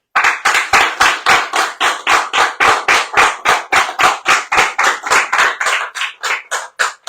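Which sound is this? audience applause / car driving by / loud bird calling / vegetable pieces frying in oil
audience applause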